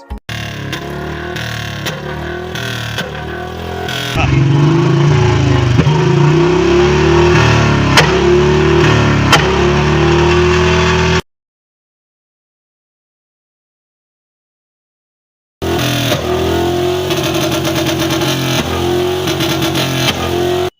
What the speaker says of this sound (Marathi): बाजारातले हलक्या दर्जाचे दोन अडीच हजारांचं साय फटाके फोडणारे सायलेन्सर लावून